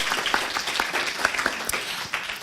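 Conference audience applauding, a dense patter of many hands at moderate distance that holds steady for a couple of seconds before thinning out.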